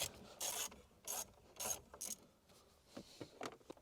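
Ratchet backing out 7mm bolts on a Ford F150 dashboard, several quick rasping clicking bursts, close and fairly quiet, separated by brief pauses.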